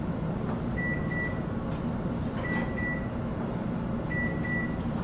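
A kitchen timer gives three short bursts of high double beeps, evenly spaced, over a steady hum of background noise.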